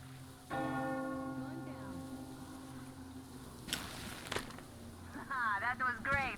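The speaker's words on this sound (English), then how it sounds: "You hear that bell?" A large bell tolls once in Metro Exodus, a close, resonant strike whose ringing tone hangs and slowly decays, followed by brief noises and a voice speaking near the end.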